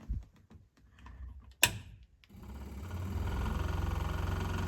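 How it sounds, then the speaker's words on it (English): An electric fuel pump in a 1972 Land Rover IIa runs with a rapid, steady ticking buzz close by, starting after a few clicks and a sharp snap. "the fuel pump seems to work"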